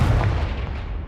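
A Confringo spell explosion in the video game Hogwarts Legacy, a single heavy booming blast that hits hard at once and then rumbles away over about a second.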